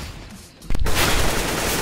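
After a quiet moment, a sudden loud burst of rapid video game gunfire breaks out and continues densely to the end.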